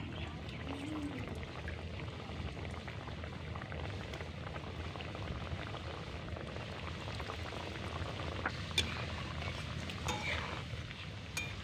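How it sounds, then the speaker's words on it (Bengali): Khaja pastries deep-fry in hot oil, giving a faint, steady bubbling and soft crackle that continues evenly without a break. "এবার এক এক করে খাজাগুলো তেলে খুব সুন্দর করে ভেজে নেব।"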